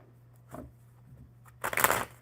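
A deck of playing cards shuffled at a table, a short faint riffle followed by a louder, brief fluttering riffle near the end, set against quiet room hum.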